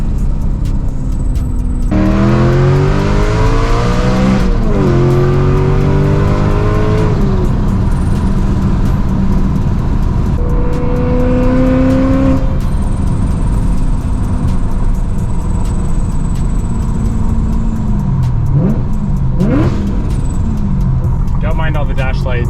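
Supercharged BMW M3 accelerating hard through the gears with tire squeal, engine pitch climbing and dropping at each shift, loud and close from inside the car, with people talking and exclaiming over it.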